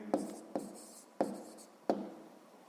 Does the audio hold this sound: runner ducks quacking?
no